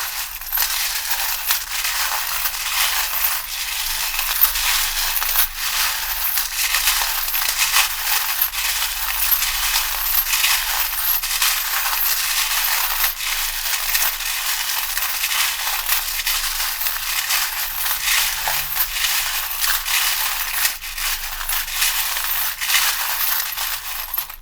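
Small charms and dice rattle and clatter continuously in a tarot reading, a dense, close, fairly loud jingling and tumbling that runs without pause and with no talk.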